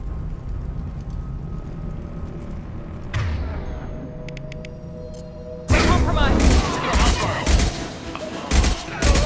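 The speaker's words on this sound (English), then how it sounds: "The Blue Suns and Vorcha are shooting anything that moves." Gunfire in a Mass Effect 2 firefight as Blue Suns mercenaries and Vorcha shoot, with a sharp shot and scattered bursts, then a dense, loud barrage of rapid shots and booms, with a voice talking over part of it.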